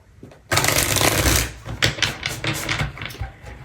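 Tarot cards being shuffled, starting with a sudden burst of dense riffling, then a run of looser irregular flicks and taps, close and fairly loud with no speech.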